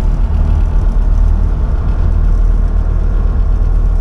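A Lada Niva accelerating hard in fifth gear up to 100 km/h, its transmission running without oil; a loud, steady engine drone with deep low rumble heard from inside the cabin, continuous and without talk.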